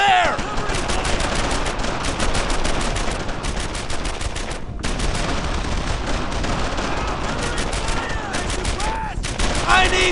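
Dense rapid gunfire rattles through a battle in the World War II shooter Brothers in Arms: Earned in Blood, with machine-gun bursts and overlapping shots nearly nonstop and a brief pause midway, while soldiers shout orders over the fire.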